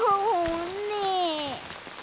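Steady rain hiss falls on a surface beneath a short, sliding, voiced cartoon-like call, with no clear speech.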